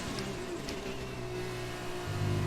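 Simulated Formula 1 car from the racing game F1 2020 accelerating, a steady high engine whine that steps up in pitch near the end, continuous and fairly loud with no talking.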